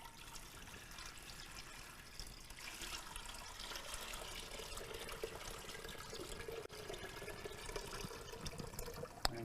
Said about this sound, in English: we're just going to dump this water right into our scale.